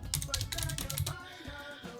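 Rapid clicking of computer keyboard keys, a dense run of quick taps that thins out toward the end, close and fairly quiet.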